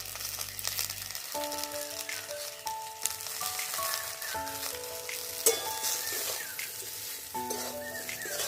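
Jujube pickle fries in oil, with black salt added, making a continuous soft sizzle and occasional stirring clinks beneath background music.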